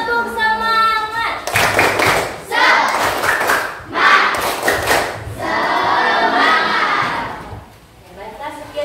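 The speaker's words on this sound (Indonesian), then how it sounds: "Ibu mau tepuk semangat." A classroom of pupils performs a rhythmic 'tepuk semangat' clapping routine led by their teacher, bursts of group clapping and chanting voices alternating in energetic patterns, with children's voices shouting along.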